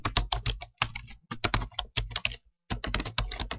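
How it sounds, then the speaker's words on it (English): Brisk typing on a computer keyboard while entering text into a spreadsheet, rapid clusters of close key clicks with a short pause midway before the tapping resumes. "I'll just type in summary information and hit enter."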